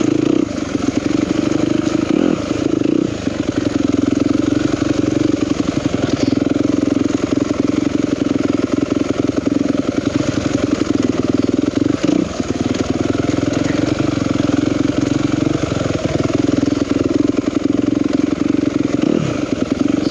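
A 2021 Yamaha YZ250FX dirt bike runs loud and close for a sustained stretch, its engine droning steadily with rising and falling throttle and a few brief surges, no voices heard.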